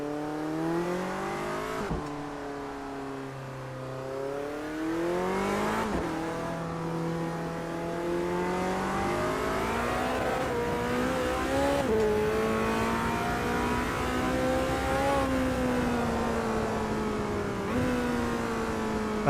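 A modded Lexus V10 race car in Automobilista 2 revs high through repeated gear changes, its engine note rising in long sweeps and dropping sharply at each shift, loud and alone for about twenty seconds.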